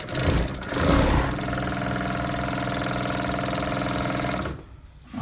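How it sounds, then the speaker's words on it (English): An edge cutter sewing machine stitching and trimming fabric, with a rapid steady mechanical whirr and buzzing hum running for several seconds after a rougher start, then stopping near the end; no talk. "It's supposed to sew and cut."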